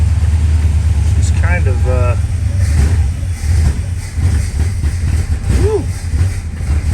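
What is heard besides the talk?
1935 Plymouth engine running with new carburetor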